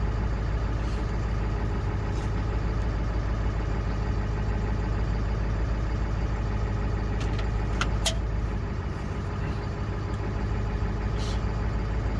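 An old 7.3 diesel engine idles steadily and close by, a continuous low rumble with a faint higher whine, running alone without talk.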